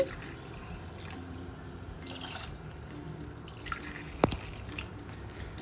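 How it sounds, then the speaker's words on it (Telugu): Water poured from a glass over two glasses of rice in a pressure cooker for tomato rice, a faint steady trickle with one sharp splash near the end. "రెండు గ్లాసుల బియ్యంకి నాలుగు గ్లాసుల వాటర్ యాడ్ చేసుకోవాలి"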